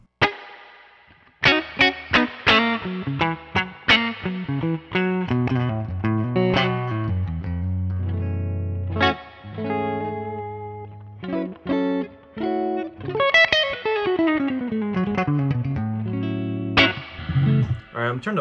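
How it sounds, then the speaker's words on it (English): An electric guitar through a spring reverb plays plucked notes and chords that ring out with a splashy, echoing reverb tail between phrases. "Let's get that spring reverb cranked."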